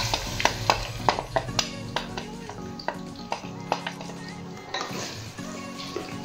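Chopped onions go into a pot of hot oil for a Pakistani chicken biryani. A steady frying sizzle sits under repeated sharp clinks and scrapes of a metal spoon stirring against the pot.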